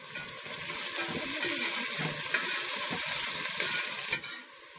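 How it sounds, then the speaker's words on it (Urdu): Onions with cumin seeds fry in a pan, a continuous close sizzle and hiss with faint stirring scrapes underneath, dropping off sharply near the end. "اب ہمارے پیازوں کے ساتھ یہ زیرا بھی ڈال دیں گے اور پیاز کو فرائی"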